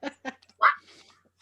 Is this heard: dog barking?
yes